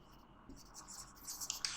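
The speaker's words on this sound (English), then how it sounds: "so here we will write two openings" Marker or chalk moves across a classroom board in short, faint scratching strokes that rise a little toward the end.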